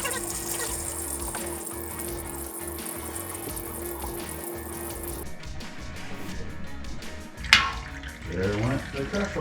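Engine oil pours from the drain opening of a Polaris RZR 1000 side-by-side into a pan after the plug is pulled, a close, steady liquid rush with some clinks and a voice speaking partway.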